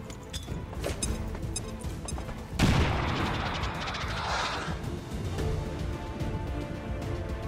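A grenade blast in the turn-based tactics game XCOM 2: War of the Chosen, a sudden loud burst partway through that rolls off into a rumbling decay over faint background game sounds.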